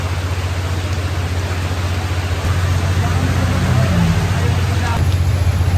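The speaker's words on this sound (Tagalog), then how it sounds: "biglang bumuhos yung malakas ng ulan" Steady, dense typhoon rain hissing and drumming without a break, with a low engine-like rumble underneath.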